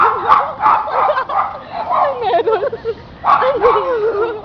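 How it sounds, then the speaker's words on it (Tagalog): A dog barks and yips excitedly in rapid, agitated bursts nearby, with a person speaking briefly over the noise. "Ay, yung aso nagwawala."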